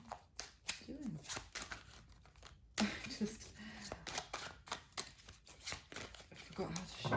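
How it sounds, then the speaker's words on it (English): Tarot cards are shuffled by hand in quick irregular riffles and taps close to the microphone, with a person talking softly in between. "I forgot how to shuffle there for a second."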